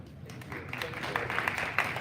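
Applause rises at a school district counselor event, a crowd clapping steadily and building over a couple of seconds, with a voice faintly present underneath.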